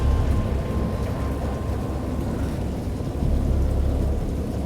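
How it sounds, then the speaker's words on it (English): Deep, sustained rumbling of thunder rolls through a steady downpour of rain, loud and continuous with a brief dip before swelling again, a wild nighttime storm. "I know that I heard peals of thunder and other tones which nature utters only in her wildest moods"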